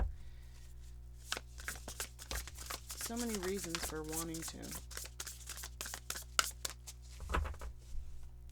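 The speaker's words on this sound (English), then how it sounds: "Sorry if that shuffling was loud." Close, crisp riffling of cards being shuffled in quick bursts, running beneath a person talking steadily.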